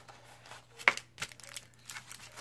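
Decorative paper from a mail folder crinkled by hand, a few sharp rustling bursts with brief tearing-like crackles, close and quiet.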